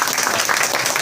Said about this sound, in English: again clap for Sagun